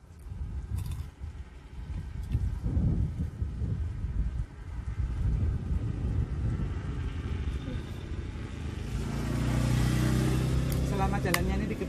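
Motorbikes and other traffic pass along a widened rural road, a steady rumble of engines that builds louder toward the end as a bike draws close, with voices chatting over it.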